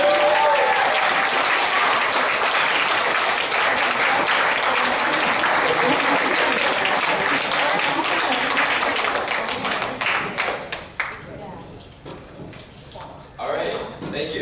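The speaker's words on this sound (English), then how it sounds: "Another big round of applause." Audience applause after a talk, loud and dense for about ten seconds, then thinning into scattered claps as it tapers off, with a few voices mixed in.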